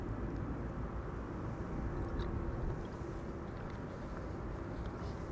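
A Kuwait Airways Boeing 777 on the runway at Amsterdam Schiphol, a steady distant jet rumble and roar holding at a constant low level throughout, with no talking.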